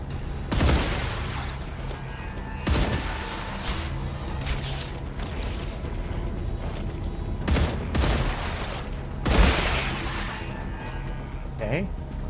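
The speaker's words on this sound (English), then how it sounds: "Here's my auto machine guns where you need them." Automatic machine guns firing in the sci-fi video game Star Rupture, with repeated sharp bursts of gunfire punctuating a steady mechanical game soundscape, loud and close, over roughly twelve seconds.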